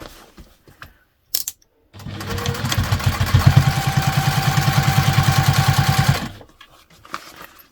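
A sewing machine top-stitches a fabric shoe bag, starting with a couple of clicks and then running in a loud, fast, even mechanical chatter for about four seconds before stopping.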